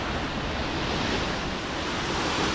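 Dense, steady rush of water at Neer waterfall in Uttarakhand, a loud, unbroken roar filling the whole clip with no voices.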